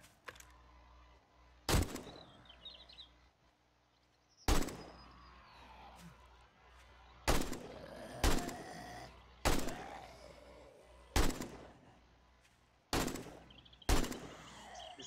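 Single-shot gunfire in the video game 7 Days to Die, about ten sharp shots spaced irregularly a second or more apart, each loud and followed by a brief decaying echo.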